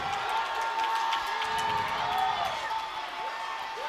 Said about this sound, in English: See if our crowd can make some noise.